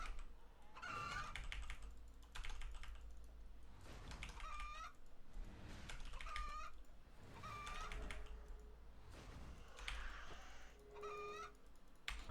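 Chickens cluck and squawk in a pen in the video game RuneScape 3, a run of repeated calls at a steady pace mixed with keyboard typing and a faint background hum.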